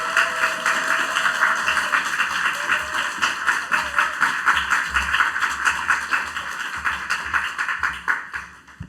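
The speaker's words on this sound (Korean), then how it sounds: "저희 큰 박수로 환영해 드리도록 하겠습니다" Church congregation applauding together to welcome a visiting pastor at a Friday evening worship service, a loud, dense and sustained clapping that fills the whole stretch with no talk over it.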